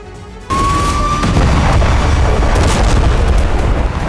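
A sudden heavy boom of wartime explosions in southern Lebanon erupts after a quiet half second, followed by a sustained loud roaring rumble with a brief whistling tone, continuing to the end.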